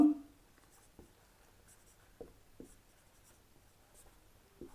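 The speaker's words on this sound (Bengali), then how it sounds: "তাহলে এবার লিখি" Pen strokes scratch across paper during a maths lesson, quiet and close, in short separate bursts spread across a few seconds.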